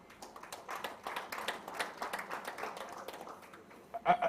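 Audience at a Rotary club charter night clapping for members, a fairly steady round of applause from a moderate crowd, with a voice speaking over it.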